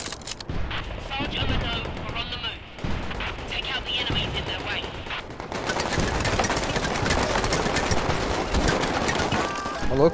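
Gunfire in the VR shooter Medal of Honor, repeated shots and bursts cracking through a busy battle soundscape that grows denser and louder toward the end, with someone talking over it.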